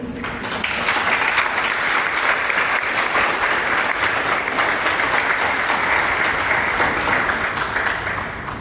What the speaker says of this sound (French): Si on peut l'applaudir, s'il vous plaît.